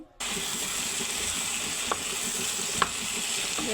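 White cabbage tipped into a pan of frying vegetables, a steady close sizzle and hiss throughout with a couple of faint knocks of stirring.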